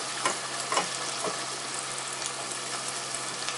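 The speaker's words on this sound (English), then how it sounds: "I'm just gonna stir your vegetables." Vegetables frying in a pan while being stirred, a steady soft sizzle with a few scraping spoon strokes near the start, fairly quiet and close, no talking.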